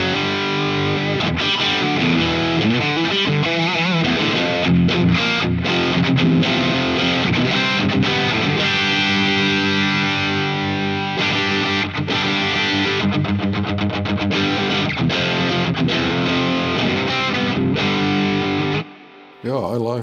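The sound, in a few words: electric guitar through Red Snapper warm distortion pedal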